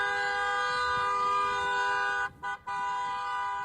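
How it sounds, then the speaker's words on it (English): A car horn blares in the street in a long, steady honk. Near the end it cuts out twice briefly and then sounds again. No one talks. "the honking of the horn is something that is done by a lot of"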